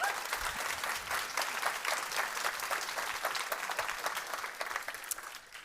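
A crowd at an investor meetup applauds a presenter, steady clapping of moderate density heard from some distance, fairly quiet and continuous, tapering slightly toward the end.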